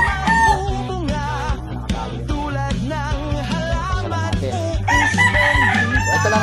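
Roosters crow loudly and close at a backyard gamefowl breeding farm, several long crows overlapping one another while chickens cluck in the background.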